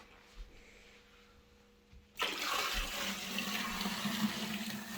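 Homemade cider being poured off its sludge. A quiet start gives way to a sudden, steady rushing gush of liquid that keeps flowing loudly and close to the end, with no talk.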